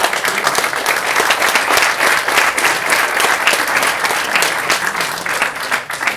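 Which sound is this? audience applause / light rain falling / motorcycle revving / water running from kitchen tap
audience applause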